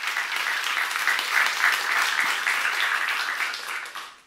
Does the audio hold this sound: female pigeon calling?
no